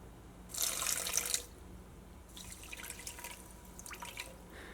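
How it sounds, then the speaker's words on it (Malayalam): One cup of water is poured into pudding mix, heard as a faint splashing pour with short trickling bursts, close and quiet, without talk. "അപ്പോൾ ഞാൻ 1 കപ്പ് വെള്ളമാണ് ചേർക്കുന്നത്."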